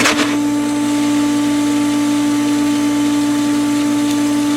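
A pool filter pump runs during the filter's rinse cycle, a loud steady motor hum with a strong constant tone and a whooshing water rush, unchanging throughout.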